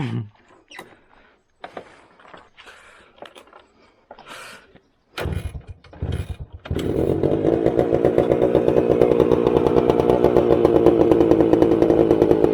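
After a few scattered clicks and attempts, a Suzuki Samurai motorcycle engine with a freshly cleaned carburetor starts and settles into a steady, buzzing two-stroke idle, loud and close.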